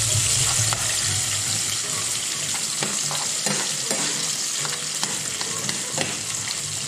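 A spoon stirs mashed potato and baked beans in a pot, giving close, wet scraping and mushy clicks over a steady hiss, with no talk.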